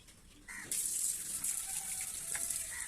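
Fresh water gushes into drinking containers for eight-day-old chicks as they are changed, a continuous close splashing stream that starts abruptly and carries on steadily.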